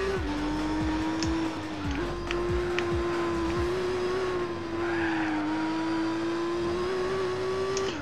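A Nissan 350Z race car in Gran Turismo 4 holds a steady, loud engine drone with brief dips at gear shifts, alongside faint tire noise throughout, with no talking.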